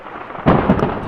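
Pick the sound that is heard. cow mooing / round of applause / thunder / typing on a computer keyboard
thunder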